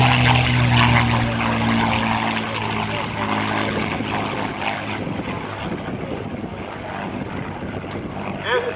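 A P-51 Mustang's propeller engine runs at an airshow, a loud, sustained rumbling drone with a strong low hum early on, continuous throughout amid crowd background.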